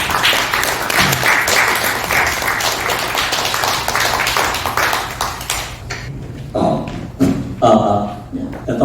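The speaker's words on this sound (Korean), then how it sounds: "박수로 환영해 주십시오." A seminar audience applauds to welcome a speaker, with dense clapping filling the first several seconds before fading into scattered claps, taps and thumps as a voice begins to talk.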